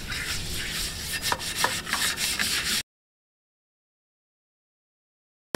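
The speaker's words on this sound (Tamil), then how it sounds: "நம்ம இப்போ வச்சுருக்கிற நார் இதெல்லாம் வச்சு தேய்க்கிறத விட இதை வச்சு தேய்ச்சோம்னா சூப்பராக வரும்" A coconut coir scrubber works against iron cookware in close, rough, rasping strokes with a few sharper scrapes, running for under three seconds before cutting to silence.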